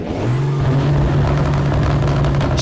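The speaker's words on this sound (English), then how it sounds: "she backfires and it is aggressive. Listen to this Cummins N14 looping" Cummins N14 engine in a Kenworth W900L road truck in American Truck Simulator, held at the rev limiter with a loud steady droning roar and a high whine, cutting and popping aggressively before a sharp hiss at the end.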